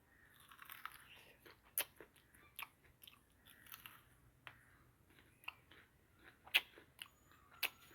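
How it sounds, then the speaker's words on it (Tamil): Someone chewing and crunching on a green snack close to the mic, with irregular sharp bites and crackles scattered over quiet background hiss and no talking. "அதை நாங்கள் தின்ன போகிறோம்."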